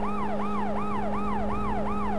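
A police car siren from the video game World's Scariest Police Chases wails loudly and close in a rapid repeating rise-and-fall cycle, heard alone.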